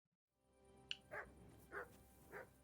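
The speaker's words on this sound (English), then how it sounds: "Oh, that's my dog barking." A dog in Kingdom Come Deliverance 2 barks three times at a steady, evenly spaced rhythm, moderately loud over quiet game ambience with a brief high chime just before the first bark.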